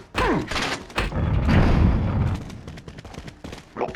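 Rifle shots ring out in the video game Resident Evil 4 inside island caves, with loud booming reports and thuds over a rumbling background, one shot following another.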